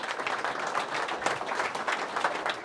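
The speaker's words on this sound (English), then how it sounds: "Big round of applause." An audience claps warmly for a guest at a live pub podcast show: a dense, even patter of many hands at moderate distance, sustained throughout with no talk.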